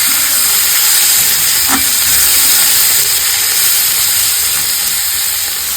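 Capsicum sautéing in a pan with chopped tomato gives off a loud, continuous sizzling hiss that holds steady throughout, with no voices.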